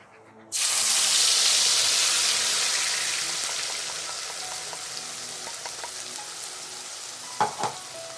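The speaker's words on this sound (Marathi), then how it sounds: "आता आपण जे तेल तळलेलं आहे ते थोडंसंच आहे म्हणून आपण त्यातच ही ग्रेव्ही टाकणार आहे" Ground masala gravy hits a small amount of hot oil with a loud sudden sizzle that fades gradually into a steady frying crackle, joined near the end by a couple of brief clinks.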